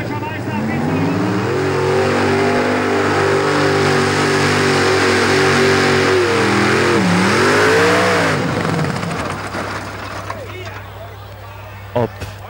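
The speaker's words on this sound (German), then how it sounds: "Ob das wohl der Grund ist, warum Eugen Kiemele den Traktor The Killer genannt hat?" An 1800 hp pulling tractor called The Killer roars loudly at a tractor pulling event in Erkelenz-Holzweiler, Germany, in 1994, holding a sustained high rev that wavers and then drops off into crowd noise while an announcer talks over it.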